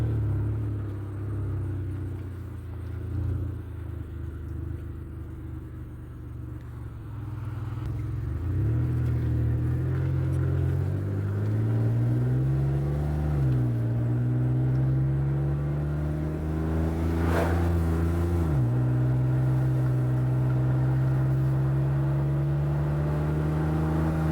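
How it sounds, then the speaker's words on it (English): A car on a test drive after a steering knuckle and wheel hub replacement: a steady engine rumble from inside the cabin, rising and falling as it accelerates and shifts, with a brief squeak near the end. "Now we're going to take it on a test drive."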